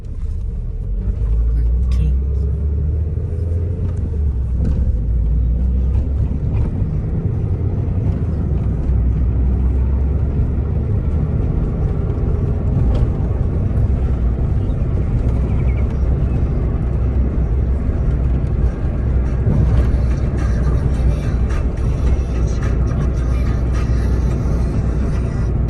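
Honda EF hatchback driving along, a steady loud engine and road rumble filling the cabin throughout, with a noisy speedometer cable adding faint mechanical whirring underneath.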